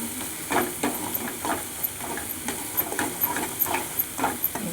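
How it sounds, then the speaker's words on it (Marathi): Food stirred in a hot pan after red chutney goes in: a continuous sizzling hiss broken by repeated scraping strokes at an even pace, close and alone with no talking. "चटणी टाकल्यावर असं आणि हलवायचं"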